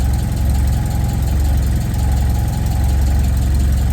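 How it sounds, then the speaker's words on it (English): A Rover 45 car engine idles steadily while warming up in a garage, a continuous low rumble with an even pulsing beat, close and moderately loud with no talk. "I'll just let her warm up now and yeah, just get some temperature into the engine"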